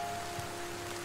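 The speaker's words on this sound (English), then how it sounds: "I really like the rain sound." Steady rain falling in a cozy coffee shop simulator game, a soft continuous patter and hiss with no voices, quiet and even throughout.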